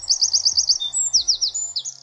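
Birdsong with rapid high repeated chirping trills and short whistled phrases, close and clear over a low background tone.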